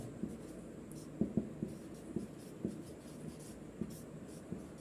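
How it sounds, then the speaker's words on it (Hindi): Pen or pencil writing out a math answer by hand, faint light scratching with a few sharper taps spread across the stretch, quiet and close with no talking. "तो यहाँ से हम लिख सकते हैं"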